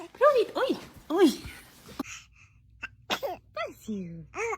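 A baby sneezes in several short bursts, small high-pitched achoos close by, separated by quiet gaps, with soft adult voices murmuring between them.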